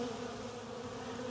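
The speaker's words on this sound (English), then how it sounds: "Maybe that's just a big old bee, because there's another one." Bees buzz around a hive box at a homestead during a package install, a faint steady drone with no other sound.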